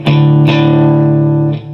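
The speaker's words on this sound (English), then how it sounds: "I was chugging on just on my bottom couple open strings." A heavily distorted electric guitar chugs on its low open strings. Three loud, ringing palm-struck hits sustain between attacks, the last one fading out.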